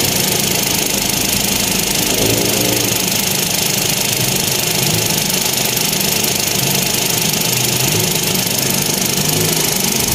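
A Toyota engine idles steadily after an oil change, a loud, continuous close-up drone with a faint knocking texture and no talk.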